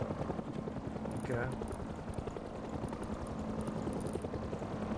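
A helicopter in the video game Rust thrums steadily with a rhythmic rotor chop under low game noise, and a voice speaks briefly over it.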